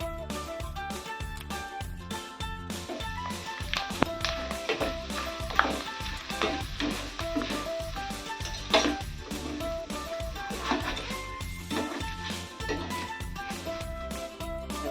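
Shreds of grated raw potato fry in hot oil, giving a steady, dense sizzle and crackle that runs unbroken throughout, with a few louder pops and a tonal background layered over it.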